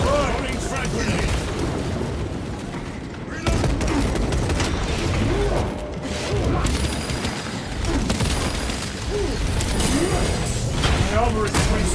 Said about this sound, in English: Up grenade fire! Throwing frag grenade!